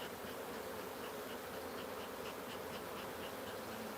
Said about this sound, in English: The bees didn't like that.